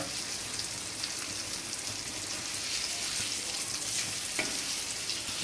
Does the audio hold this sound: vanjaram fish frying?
yes